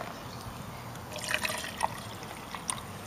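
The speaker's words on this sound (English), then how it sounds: "So we pour a little into here." Vinegar poured in a thin, gentle trickle into a cup for a chalk and vinegar experiment, with a few soft splashes and drips over steady background hiss.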